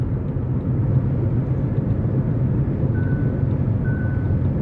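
Hyundai Ioniq 5 electric car's hands-on-wheel driver assist warning chiming twice as two short tones over the steady low rumble of road noise inside the moving cabin.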